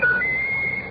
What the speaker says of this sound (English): Ruffles, whistle your favorite tune